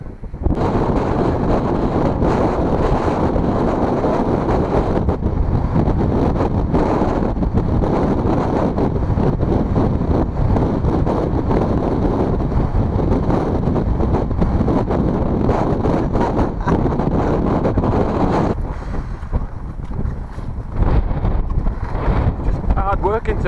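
Strong wind roars across the microphone on an exposed mountain walk near Blencathra, a loud continuous buffeting rumble with gusts that ease briefly near the end.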